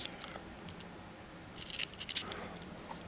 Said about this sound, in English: So then I'm going to cut the ends